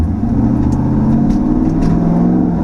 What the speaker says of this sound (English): when you get on throttle, you can just hear the exhaust get much louder